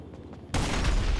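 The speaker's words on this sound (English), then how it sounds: "So a full magazine for the sniper rifle +1, so 9 shots." Rifle fire in GTA Online striking a Hydra jet, a sudden loud burst that starts partway in and holds dense, sustained blasts with heavy low rumble to the end.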